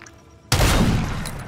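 A single loud gunshot bursts from near silence in the Call of Duty video game, followed by a sustained crackling, rumbling burst of gunfire that fades slightly over the next second.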